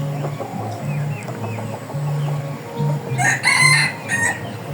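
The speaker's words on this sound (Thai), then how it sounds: "ไม่รู้ว่าเสียงจะขันดีหรือไม่ดีนะครับ" A young yellow crossbred rooster crows loudly nearby near the end, preceded by quieter clucking and background bird calls.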